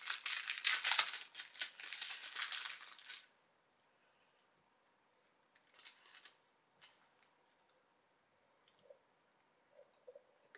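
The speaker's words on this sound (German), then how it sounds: "das muss ich jetzt auspacken." Plastic packaging of a Disney Christmas ornament shaped like a Mickey head crinkles loudly for a few seconds while being torn open, then only sparse faint rustles and small handling clicks follow.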